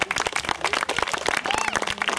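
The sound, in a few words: audience applause at a taekwondo club event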